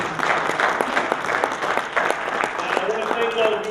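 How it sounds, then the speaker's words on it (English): An audience claps at a college lecture at Essex County College's Africana Institute, with moderately loud, uneven applause mixed with voices. "give Dr. Jeffries another round of applause, please."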